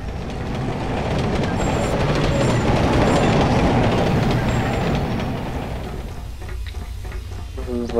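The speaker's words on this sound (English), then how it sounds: "The train will still hit you." A train rumbles along tracks in the video game Carrier Command Gaea Mission, a loud sustained roar swelling and then easing off, with faint talk over it toward the end.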